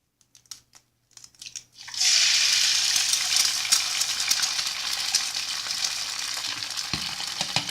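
An egg dropped into hot oil in a nonstick pan sizzles loudly and steadily after a few quiet clicks and taps, the frying hiss filling the rest of the clip.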